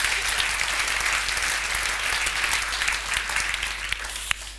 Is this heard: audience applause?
yes